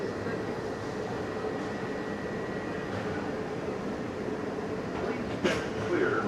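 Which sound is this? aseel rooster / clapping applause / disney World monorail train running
disney World monorail train running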